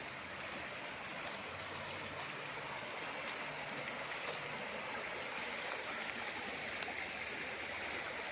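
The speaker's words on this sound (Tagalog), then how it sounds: "At tuloy-tuloy po ang agos niyan." Steady broadband rush of a stream running through a farm lot in Liliw, Laguna, continuous and fairly close, with no voices and no breaks across the whole stretch.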